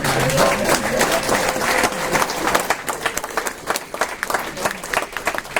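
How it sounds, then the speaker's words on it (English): A standing audience at a business opportunity event in Toronto gives a loud round of applause for national directors, dense clapping with a few cheers that thins into scattered claps toward the end. "give them a round of applause"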